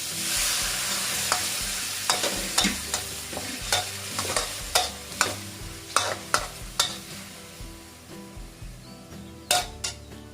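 Pork and ginger are stir-fried in a pan after a splash of water goes in: a constant sizzle under repeated sharp scrapes and clanks of a utensil against the pan, close and fairly quiet.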